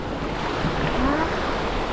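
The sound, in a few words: sea waves around a small boat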